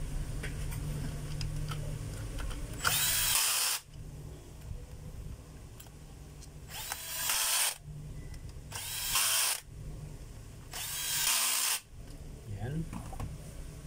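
A power tool drives screws to fasten the brush holder on a DeWalt D25899 rotary hammer, running in four short whirring bursts of about a second each, close and clear, with quieter handling noise between them.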